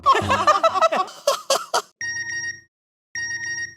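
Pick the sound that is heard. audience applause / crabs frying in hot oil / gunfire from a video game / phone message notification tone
phone message notification tone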